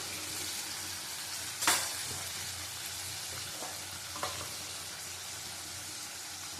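Chopped tomatoes with turmeric and Kashmiri chili powder fry in hot oil, giving a steady close sizzle with a few sharp spatters and occasional stirring scrapes.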